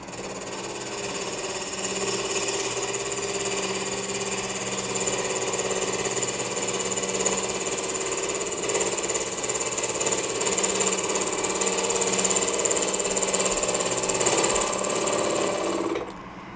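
Wood lathe spinning steadily while a brand new Carter & Son deep fluted 3/4 inch bowl gouge cuts wood, a continuous even whirring drone with a rough cutting hiss, close and loud, stopping abruptly at the end.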